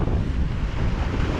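Rough sea waves and strong wind on the West Philippine Sea, heard from a boat out fishing, with steady, close roaring wind buffeting the microphone over the wash of the water for the whole stretch.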